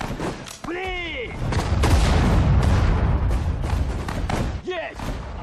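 Loud, sustained barrages of artillery and cannon fire rumble in the Sudden Strike 4 Battle of Moscow game, dense booms overlapping continuously, with brief shouted voice lines from units cutting through the din.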